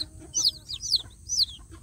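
Newly hatched free-range village chicks give bright, high peeping chirps in short bursts, several calls close together over quiet background hum.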